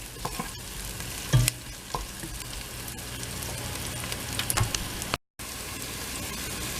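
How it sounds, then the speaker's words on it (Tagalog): Garlic and ginger sauté in a pan for chicken tinola, a steady close sizzle with a few sharper stirring knocks and one brief dropout near the end. "Igisa mo natin hanggang sa mag-brown ang garlic. Tapos sinabay ko na yung ginger."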